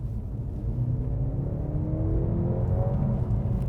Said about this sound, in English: it sounds like a 4-cylinder because that's what it is